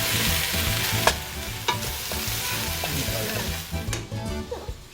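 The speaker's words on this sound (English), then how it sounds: "I'm gonna go ahead and add 3 tablespoons of butter, so that it'll help the mushrooms get nice and soft." Mushrooms, onions and garlic sizzle steadily in butter in a pan, a dense continuous frying hiss with occasional sharper pops and spoon scrapes as they are stirred.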